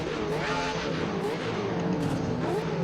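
BMW E36 fitted with a Judd V8 Formula 1 engine at a race start in the Assetto Corsa racing game, engine revving loudly and steadily with rising and falling pitch sweeps, close and continuous.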